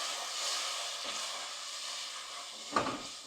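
Masala spice paste frying with onions in a pan for urad dal, a steady broadband sizzle with soft stirring texture and a brief louder scrape near the end.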